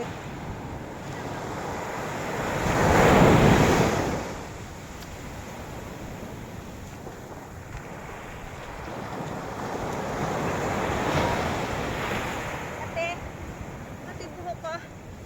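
Strong surf rolls and crashes, with a big wave swell early and another later, under steady wind buffeting the microphone.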